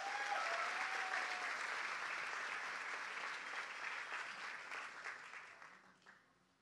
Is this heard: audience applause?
yes